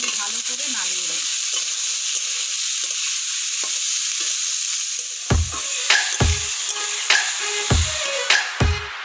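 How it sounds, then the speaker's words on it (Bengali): Yellow and red bell pepper with soybean chunks frying in a pan, a steady close sizzle throughout with a run of sharp spoon scrapes and knocks toward the end. "এবার এগুলো সমস্ত দিয়ে আমি ভালো করে নাড়িয়ে দেব।"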